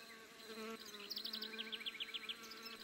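Asian hornets (Vespa velutina) hover near a beehive in Aquitaine in late summer, giving a close, wavering insect drone with rising and falling wingbeat pitch over a quiet outdoor background.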